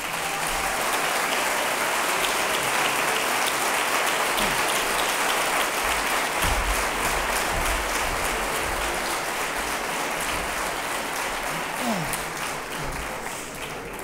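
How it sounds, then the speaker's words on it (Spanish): Audience applause at the VII Gala del Deporte Pedrereño for Andalusia Day, a sustained dense clapping from a large crowd that sounds like heavy rain, holding steady and loud before easing slightly at the end. "Un aplauso, por favor."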